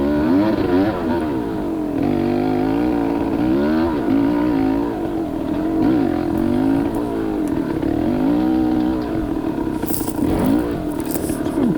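A dirt bike engine revs hard and rises and falls repeatedly as the rider pops wheelies over logs on a forest trail, loud and close, with rattling clatter and a brief voice near the end.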